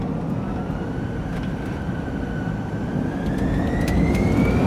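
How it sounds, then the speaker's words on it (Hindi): Jet engines of an Airblue airliner roar steadily during the takeoff roll from Lahore, a loud continuous rushing drone with a rising whine and no talk over it. "इंजन की आवाज़ सुने, घनघरज।"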